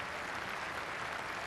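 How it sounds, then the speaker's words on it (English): Applause from a cricket crowd at a one-day Yorkshire v Lancashire match rolls on as a steady, broadband wash of distant clapping with no speech over it. "a generous round of applause for him."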